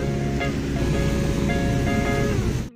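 A stream running full of water alongside a farm road through village farmland, giving a steady, close rushing wash of water that holds evenly throughout with no one speaking.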